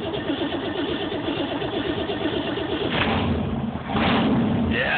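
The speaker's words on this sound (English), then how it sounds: "We're doing a cold start. 327, carbureted. The choke is on." A carbureted 327 engine is cold-started with the choke on: a steady mechanical churning runs the whole time, then swells louder in rough bursts near the end as it catches.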